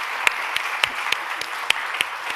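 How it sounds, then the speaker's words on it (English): Audience applauding panelists at the close of a climate resilience panel discussion, a steady wash of clapping with a few louder individual claps standing out, alone without speech. "Why don't we give a round of applause to our panelists?"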